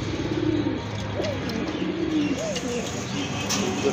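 Pigeons cooing close by in a loft or market, a few soft, low, rolling coos over a steady background hum.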